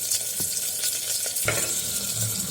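Ingredients for a banana flower kola urundai kuzhambu sautéing in a pan, with a steady close sizzle broken by a few sharp stirring scrapes, and no voices.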